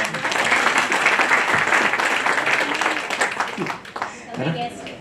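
An audience at a skin-health talk session bursts into loud, dense applause for several seconds, which then fades as a voice begins speaking.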